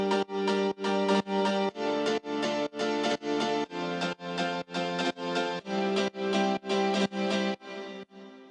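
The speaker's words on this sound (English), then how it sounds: "I layered AM1 house piano with a true pianos preset." An AM1 house piano layered with a true pianos preset plays steady rhythmic chord stabs in a deep house groove, about fourteen even hits, bright and full, ending on a softer, decaying chord.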